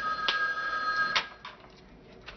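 Telephone ringing indoors at home, two short bright electronic rings close by, followed by fainter fading tones, with no talk over it.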